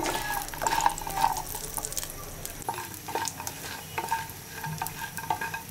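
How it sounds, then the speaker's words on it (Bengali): Pumpkin lentil dumplings (kumro bori) fry in oil in a wok, giving a steady, fairly quiet sizzle close by, with occasional stirring scrapes and clinks throughout. "কুমড়ো বড়িগুলোকে ভেজে নেব।"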